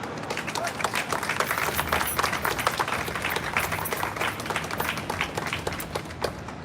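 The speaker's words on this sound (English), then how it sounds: "Please give yourselves a round of applause" Audience applause at a library grand reopening and ribbon cutting, a steady patter of clapping hands from a gathered crowd filling the room at moderate level.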